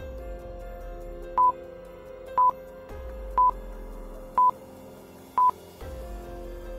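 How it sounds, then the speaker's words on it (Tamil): A telephone dials a customer care number: five short, evenly spaced keypad tones about a second apart, heard clearly over a faint background with no speech. "மேகுல் உடனே அந்த ஷாப்பிங் கம்பெனியோட இந்தியாவில் இருக்கிற கஸ்டமர் கேருக்கு கால் பண்றாரு."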